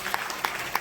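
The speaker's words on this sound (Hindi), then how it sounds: "ताली बजा के तारीफ करो" A church congregation claps hands in praise, a brief burst of scattered, uneven claps from many people filling the room.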